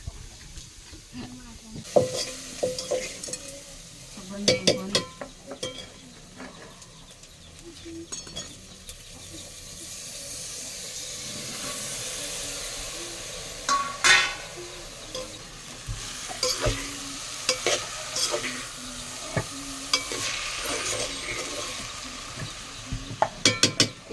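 Tempering spices for cauliflower curry sizzle and crackle in hot oil in a pan, with scattered stirring clinks and pops over a steady hiss, close and fairly quiet.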